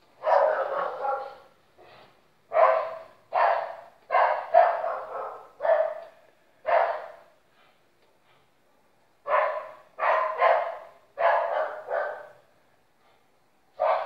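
A female dog barks repeatedly in loud, clear bursts, a long run of evenly spaced barks, a few seconds of quiet, then another series of barks.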